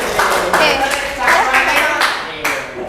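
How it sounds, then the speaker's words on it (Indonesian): Classroom of students clapping hands in applause for a classmate, a lively, close, uneven burst of claps with voices mixed in. "tepuk tangan buat Haki."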